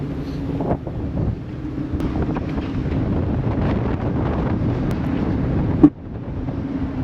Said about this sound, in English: Pretty windy, really windy.